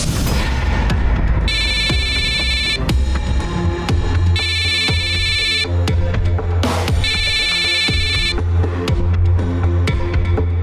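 A phone ringtone plays three separate bursts of bright electronic ringing over a continuous droning music bed, each ring lasting about a second, loud and near, with no talking.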